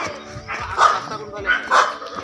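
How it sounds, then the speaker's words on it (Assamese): A dog barks a few times in a village setting, two or three sharp barks spaced across the moment, heard amid background voices and outdoor noise. "কুকুৰে আমাৰ স্বাগত কৰি আছে"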